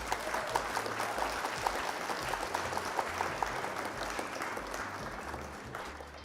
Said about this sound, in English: I think that I deserve a round of applause.